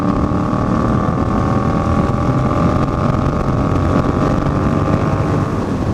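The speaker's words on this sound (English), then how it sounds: "when I accelerate in the 6th gear." Yamaha FZ-07 motorcycle accelerating in sixth gear, a steady loud engine drone mixed with rushing wind noise, continuous and close throughout.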